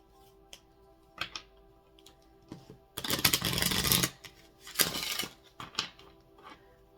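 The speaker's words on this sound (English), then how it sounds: "3 shuffles here." Cards shuffled in bursts: a few light taps and flicks, then two louder riffling sweeps, close by with no speech.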